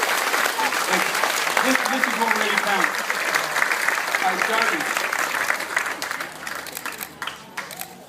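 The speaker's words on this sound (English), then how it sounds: "I think you should all give yourself a massive round of applause" Applause from a community cooking-program audience in Ipswich, a loud sustained burst of clapping that gradually thins out toward the end, while someone speaks over it and a few voices cheer.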